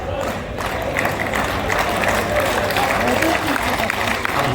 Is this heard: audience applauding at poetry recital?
yes